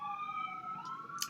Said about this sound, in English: I would ordinarily apologize for the literally endless stream of screaming sirens outside